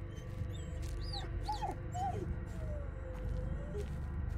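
Dog whimpering in the Blair Witch video game: a string of high, thin whines and sliding whimpers, some rising and falling, over a steady low ambient game drone.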